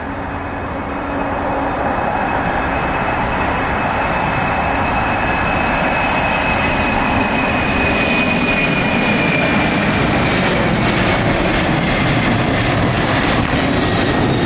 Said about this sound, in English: The war of the engines. Boy, they sound so fantastic.